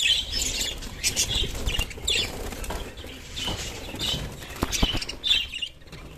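Rapid bursts of wing flapping from several birds being caught by hand in an aviary, with scattered faint chirps and scuffling, close by and fairly busy throughout.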